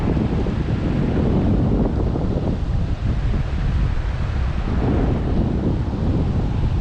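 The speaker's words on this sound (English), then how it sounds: "The wind just picked up even more." Strong wind gusts roar steadily and loudly across the microphone outdoors during trout fishing at Saluda, with a constant buffeting rumble and no voices.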